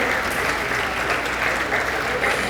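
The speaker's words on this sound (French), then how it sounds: "On les applaudit" A seminar audience gives two volunteers a brief round of applause. The clapping is close, even and continuous throughout.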